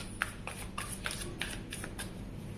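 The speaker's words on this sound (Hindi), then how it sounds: "अब हम इस साइड के लिए भी कार्ड शफल करेंगे" Tarot cards being shuffled by hand at a love reading, a steady run of soft riffling snaps and slides with crisp clicks, close and fairly quiet, with no talking.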